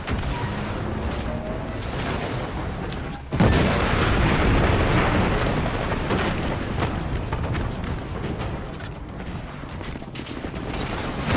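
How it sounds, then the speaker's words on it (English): Cluster missiles explode in the shooter Titanfall, with a loud thump followed by a dense, rumbling barrage of booms and mechanical clatter that continues steadily amid the battle noise. "Stupid cluster missile."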